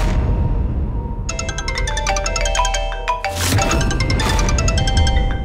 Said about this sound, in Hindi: किसका फोन आ रहा है बार बार?